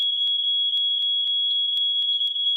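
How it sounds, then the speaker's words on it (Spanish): A steady, piercing electronic alarm tone from an Arduino embedded system sounds continuously and loudly, with faint clicks recurring about every half second, and no voices. "también se va a activar una señal de alarma tanto en el Arduino como en el sistema"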